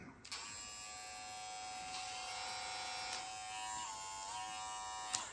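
An electric hair clipper fitted with a blur blade hums steadily at close range, a continuous bright buzz with a slight wavering in pitch.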